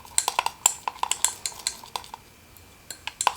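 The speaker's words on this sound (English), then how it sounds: "You want to incorporate the xanthum gum with the vegetable glycerin." Metal spoon stirring xanthan gum into vegetable glycerin in a bowl for a lavender face wash, giving a run of light, sharp clinks and taps at an uneven pace, close and fairly quiet.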